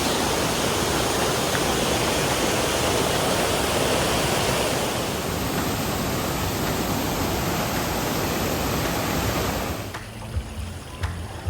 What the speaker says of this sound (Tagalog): Nakabalik kami dito sa may waterfalls area